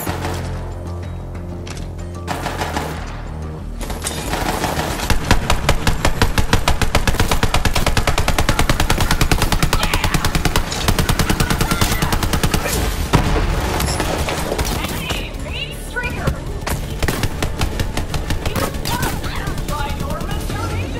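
A machine gun fires in Borderlands 3 in loud, rapid, continuous bursts lasting most of the time, with brief pauses and heavy booming thuds mixed among the shots.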